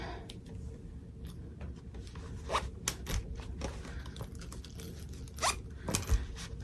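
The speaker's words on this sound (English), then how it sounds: "I'm going to take this tape off because we no longer need it." Tape is peeled off fabric on an in-the-hoop zippered sewing project, giving a few quiet ripping and scraping strips over soft rustling.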